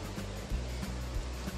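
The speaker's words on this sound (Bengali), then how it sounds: "এখানে মূর্তি নদী বয়ে যাচ্ছে" The Murti river rushes over large boulders at Rocky Island in the Dooars, making a steady, close roar of flowing water with no voices.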